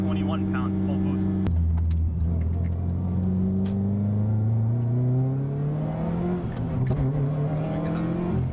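A 2004 Subaru WRX STI tuned to 18 to 21 psi accelerating hard under full boost, engine climbing loudly through the revs with a quick shift and rattles inside the cabin, a voice exclaiming over it.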